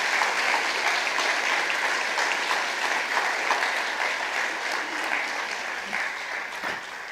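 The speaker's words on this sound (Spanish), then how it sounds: "si va a aplaudir, aplauda de una vez" Sustained applause from an audience at a spoken talk, a dense, loud crackle of many hands that holds steady and eases slightly toward the end.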